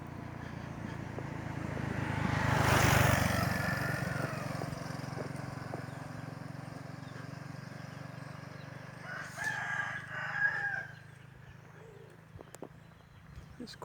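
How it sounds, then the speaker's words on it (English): Rooster crowing in the afternoon near a lakeside resort in Thailand, one long loud crow that swells and fades, followed later by fainter clucks and calls against quiet outdoor background. "that cockerel seems to have just woken up"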